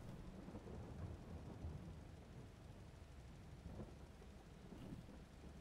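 Steady rain in Farming Simulator 22 hisses continuously with low rumbling underneath, a dense, even downpour with no voices present.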